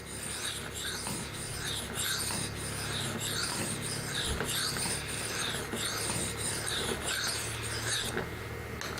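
A tool blade is rubbed back and forth on a sharpening stone in a steady, rhythmic rasping stroke, close and continuous with no talk.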